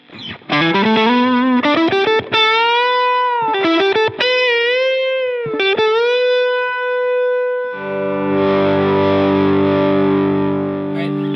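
A Lekato mini loop station plays back a recorded loop: a distorted, effect-laden melodic phrase with gliding pitches, followed by a sustained, buzzy chord that holds until the end.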